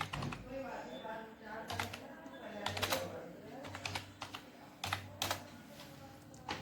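Rapid typing on a computer keyboard as a file name is entered, a run of light key clicks in irregular bursts with a steady hum behind them.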